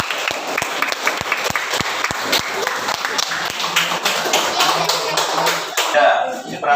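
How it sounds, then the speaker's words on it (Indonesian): Students in a classroom give a round of applause, rapid claps rising into a dense patter for several seconds before fading, with voices audible near the end. "kita kasih aplaus"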